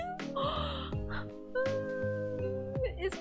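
A cat meows several times in close, clear, drawn-out cries, with a person talking and other background sound running underneath.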